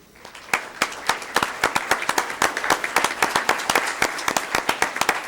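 Audience at a school board meeting clapping together in a sustained round of applause, many hands close by forming a dense, rhythmic patter that stays loud throughout.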